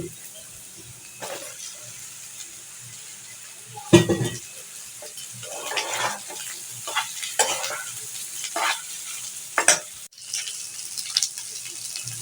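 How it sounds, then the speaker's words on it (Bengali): Chicken liver goes into a pan of already fried onion and potato and sizzles, while a spoon stirs it in scraping bursts. Several louder clatters stand out from a low, steady frying hiss, and no one speaks. "এখানে পেঁয়াজ আর আলুটা ভাজা হয়ে গেছে, এখন আমি কলিজাগুলো দিয়ে দিচ্ছি"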